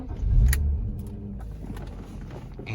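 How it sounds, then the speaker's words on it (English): A manual-transmission car engine cranks and catches with a loud low rumble near the start, then settles into a steady idle close by. "So I'm going to turn my car back on"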